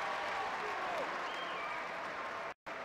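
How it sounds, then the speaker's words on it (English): A crowd at an indoor soccer game, Baltimore Blast against Florida Tropics, gives a faint, steady ripple of applause, broken by a short dropout near the end. "Crowd gives him a hand, well deserved."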